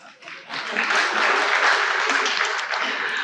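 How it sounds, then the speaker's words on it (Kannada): An audience applauds at a comedy speech, a dense burst of clapping that swells quickly and holds loud and steady, with no clear voices over it. "ಚಪ್ಪಾಳೆ."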